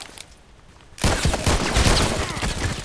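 Rapid pistol fire in the online shooter Contract Wars, with an M1911A1, Colt Python Elite or Beretta, starting abruptly after a quiet second and continuing as a loud, dense burst of overlapping shots with faint talk underneath.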